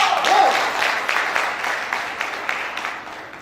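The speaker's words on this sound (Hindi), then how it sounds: "मैं आपकी जोरदार तालियों के बीच माइक हैंडओवर करता हूं मिस्टर दीपक साहनी।" Audience applause at a leadership business event fills the whole stretch, a steady dense patter of many hands clapping, fairly loud and tapering slightly toward the end.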